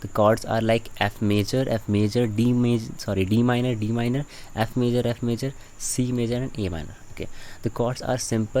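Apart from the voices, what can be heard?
No distinct noise like a dog, phone or traffic.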